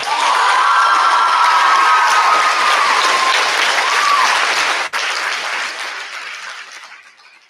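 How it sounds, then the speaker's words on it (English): A school talent show audience breaks into loud, sustained applause with scattered cheers and shouts, filling the room before gradually tapering off. "Can we please give a warm round of applause for that performance?"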